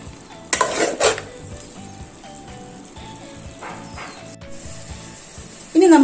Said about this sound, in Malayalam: ഇതെല്ലാം കൂടി നന്നായിട്ടൊന്ന് ഇളക്കി കൊടുക്കാം.